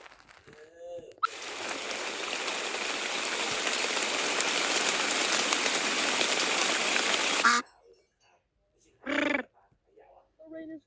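Steady rain pours loudly for about six seconds, then stops abruptly, leaving near silence with a few short voice-like bursts.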